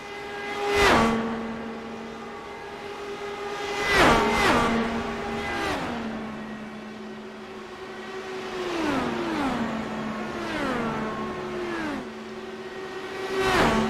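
IndyCar race cars in a racing video game on the Auto Club oval scream past one after another, each engine note sweeping down in pitch as it passes; several loud passes come in quick succession with a steady engine drone between them.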